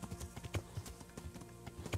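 Horse hooves clip-clop at a steady walking rhythm while riding uphill in the medieval game Kingdom Come: Deliverance, the footfalls distinct and close over a soft background, with no voices.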